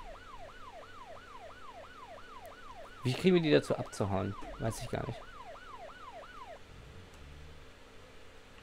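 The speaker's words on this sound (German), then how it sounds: "Okay, also nur wenn wir Sirene anmachen." A vehicle's police siren in the BeamNG Drive video game wails in fast, regular rising-and-falling cycles for several seconds. People talk over it partway through, then the siren stops.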